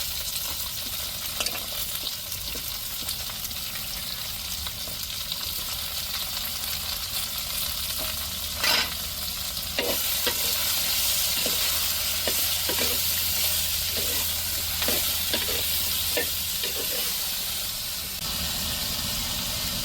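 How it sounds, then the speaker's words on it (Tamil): Drumstick pieces and small onions sautéing in a pan with rock salt: a dense, loud, steady hiss and sizzle throughout, broken by occasional stirring scrapes and clinks, heard close with no voices. "இப்போ முருங்கைக்காயும் சின்ன வெங்காயத்தையும் சேர்த்து நல்லா வதக்கி விடுவோம்."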